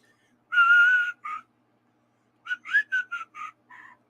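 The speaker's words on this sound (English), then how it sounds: "No whistling. Cut it out." A person whistles a short tune: one long held note, a brief note, a pause, then a quick run of short notes ending on a softer one, clear and close in a quiet room.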